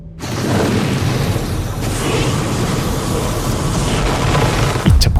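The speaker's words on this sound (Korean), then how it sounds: "이 차 폭발이 일어나고" A secondary explosion tears through a burning building in a TV drama scene, a loud sustained roaring blast with rumbling debris, ending in a sharper crack near the end.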